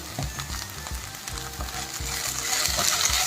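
Okra frying in a pan, an even close sizzle with soft rhythmic stirring knocks throughout, growing slightly louder toward the end, no speech.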